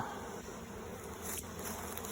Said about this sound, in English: the bees are slowly making their way up the ramp